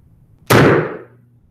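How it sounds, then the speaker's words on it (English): A hydrogen-filled balloon taped to a ring stand in a lab bursts into flame when touched with a candle, giving one sharp, loud bang with a brief rushing tail that fades within half a second. "short flame, but the gas exploded or combusted very rapidly"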